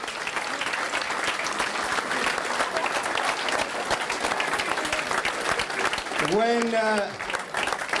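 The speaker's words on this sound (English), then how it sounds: "Give him a round of applause" Applause from a room of people at a club reunion for a longtime groundsman, steady sustained clapping throughout with a voice calling out near the end.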